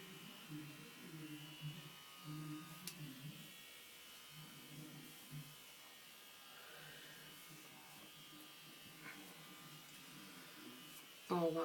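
A sonic facial cleansing brush from Poundland hums in a steady, fairly quiet electric buzz through most of the stretch, with a person talking over it and a louder burst near the end.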